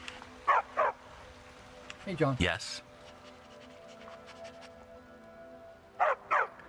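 A dog barks in Skyrim, two short barks near the start and two more at the end, with a person talking in between.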